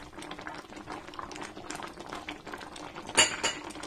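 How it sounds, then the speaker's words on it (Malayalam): Tomato ketchup cooks in a pan as a spoon keeps stirring it, giving a steady bubbling simmer with soft scraping, and a sharp clink of utensil against the pan near the end. "എന്നിട്ട് നമ്മൾ ഇളക്കി കൊടുത്തുകൊണ്ടേയിരിക്കണം"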